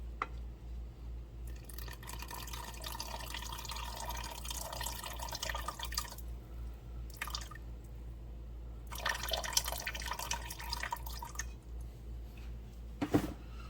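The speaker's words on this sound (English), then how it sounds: "You see that juice right here? Don't throw that away." Shrimp juice poured from a pan into alfredo sauce, soft intermittent trickling and dripping in a few short bursts, close and fairly quiet over a steady low kitchen hum.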